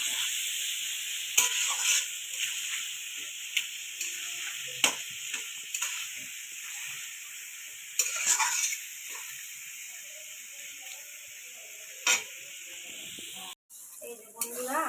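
Onions frying until golden in a pan for a Digha street-style crab curry: a steady bright sizzle throughout with occasional stirring clatter, under a voice speaking.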